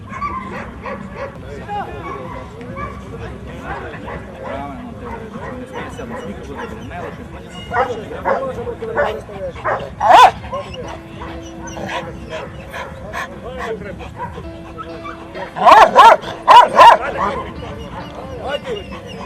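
Macedonian shepherd dogs (Karaman) at the first state exhibition for the breed give scattered barks and yips, with a couple of louder close bursts, amid steady talking and crowd murmur.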